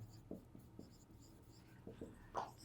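Faint, scattered strokes of writing on a board during a math lesson, a few brief taps and scrapes spread unevenly over a low steady background hum.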